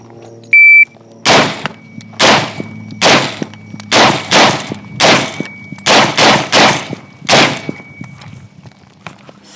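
Practical shooting course: a shot timer beeps once, then about ten loud gunshots follow in quick bursts, sharp, close and evenly paced, with brief gaps between groups and no talking.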